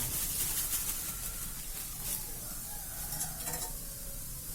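Bombay rava (semolina) roasting on a slow flame for kesari bath, with a steady soft scraping and stirring in the pan and faint light sizzle, a few utensil clinks, no voices.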